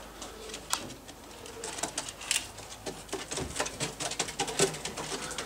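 Pigeons coo and flutter in a stock loft of racing pigeons, several birds calling close by with soft rustling and pattering between the coos, with no talking.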